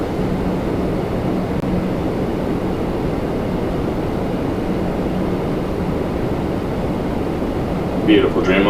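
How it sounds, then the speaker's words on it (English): A Boeing Dreamliner airliner taxiing to the apron at Toronto Pearson airport, a steady broad jet engine rumble and whine heard from a distance, continuous and even, with a brief higher-pitched sound at the very end. "Beautiful Dreamliner making its way to the apron."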